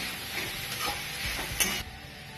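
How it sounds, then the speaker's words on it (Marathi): Vegetables, raw peanuts and peas are stirred in a sizzling pan for masala rice, with soft scraping strokes and a light clink over steady frying. "कच्चे शेंगदाणे आणि वाटाणे घेतले हे पण याच्यामध्ये टाकून घ्यायचे आणि मिक्स करून घेऊ छान हलवून घेऊ"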